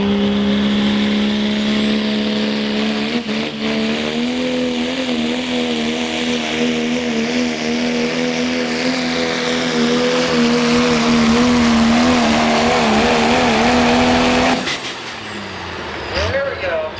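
A pulling truck roars down the track at a truck and tractor pull, its engine a loud sustained drone with rising pitch for about fifteen seconds before cutting back, with crowd and announcer noise faintly underneath.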